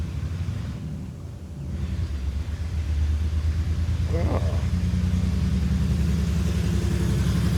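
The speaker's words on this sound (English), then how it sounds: "very loud truck goes by." A loud, low rumble of a large vehicle swells and holds steady as it passes close by, with a brief voice exclamation partway through.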